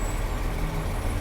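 A bus at the Ratlam bus stand rumbles with a heavy diesel drone and a thin high tone while reversing, steady and close for about a second, no speech.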